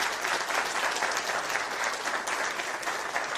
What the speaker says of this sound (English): I really appreciate that applause